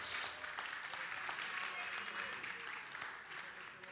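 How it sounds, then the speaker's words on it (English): Audience applause at a powerlifting championship medal ceremony, a steady dense wash of many hands clapping that fills the hall and holds at even loudness throughout. "Big round of applause."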